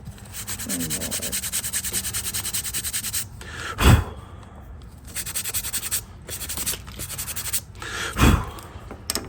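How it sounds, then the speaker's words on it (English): Balsa wood glidebait lure is lightly hand-sanded in steady back-and-forth strokes, a close, soft rasping rub broken by two brief louder scuffs and short pauses, with no voices. "Very lightly sand it off."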